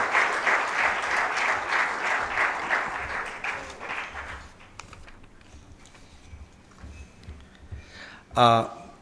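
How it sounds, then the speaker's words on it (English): An audience applauds a distinguished evening speaker coming onto a stage. Strong, even clapping fills the first half and then thins and fades, and a single sharp knock sounds near the end. "big round of applause to our distinguished speaker for this evening."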